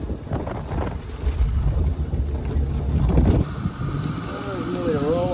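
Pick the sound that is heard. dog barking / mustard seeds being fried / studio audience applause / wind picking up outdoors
wind picking up outdoors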